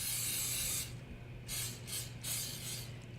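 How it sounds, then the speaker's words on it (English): Commercial non-GMO canola cooking spray hisses onto four 3x5 baking pans in a kitchen, in three distinct close bursts: one long spray followed by two shorter ones, with no talk. "So we just want to spray these."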